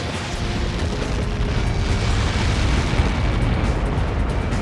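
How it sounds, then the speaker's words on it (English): A massive explosion in the combat flight game Ace Combat 7, heard as a sustained, loud roaring rumble of dense debris-like noise that fills the whole stretch without a break. "Somebody got caught in that explosion."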